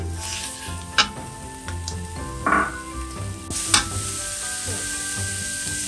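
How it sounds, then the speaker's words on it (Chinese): Minced meat stir-fried in a pan with black fungus strips, a steady close sizzle broken by a few louder scraping stirs of the spatula, with no talking. "炒到它的肉碎散开了以后"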